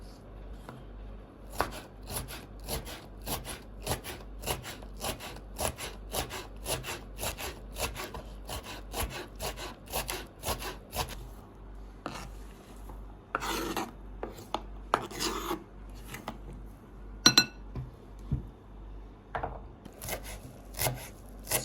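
Knife chopping vegetables finely on a board for an Antep-style ezme salad, a fast run of sharp, close, even knocks that pauses briefly, then returns in scattered bursts.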